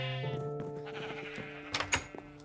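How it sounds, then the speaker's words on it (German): Sheep in Minecraft bleat in a drawn-out, nasal call, followed by a few short, sharper game sounds near the end, close and clear. "Niemand, das sind die Schafe."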